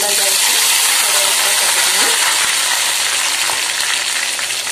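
Mustard seeds fry in hot coconut oil in a pan while preparing a cassava dish, giving a loud, steady close-up sizzle with dense crackling and popping throughout.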